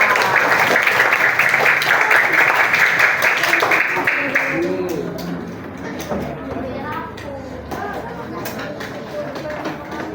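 A class of fifth-grade pupils claps in the classroom during a maths lesson, a loud, dense burst of hand clapping for the first few seconds that then thins out into scattered claps under children's chatter and an adult voice.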